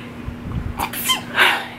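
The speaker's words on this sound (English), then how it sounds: "Oh, I'm gonna sneeze." A single sharp sneeze, preceded by a quick intake of breath, close and loud against a quiet background.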